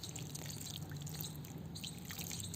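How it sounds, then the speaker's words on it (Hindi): Water poured onto seeds sown in a soil-filled poly bag for growing California poppies, a steady soft dripping and trickling at low level with no talk. "और फिर पानी ऐसे दे देना है आपने"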